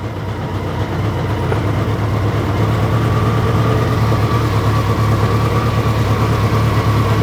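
A car engine runs loud and close with a steady, even idle and a slight rise in revs, heard without any talking.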